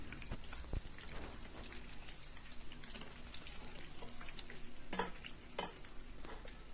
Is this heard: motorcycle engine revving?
no